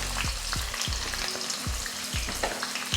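Onion with cinnamon, cardamom, cloves and bay leaf is sautéed in hot oil for chicken biryani: a loud sizzle with regular scraping strokes of a spoon about every half second, no voices.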